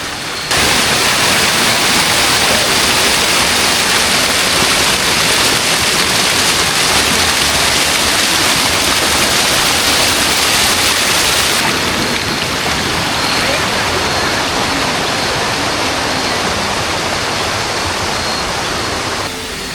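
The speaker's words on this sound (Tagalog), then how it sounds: "Ito yung supply ng tubig. Bukal." Spring water pours and splashes steadily nearby at a campsite shower, a loud continuous rushing hiss of strong flow, unbroken throughout.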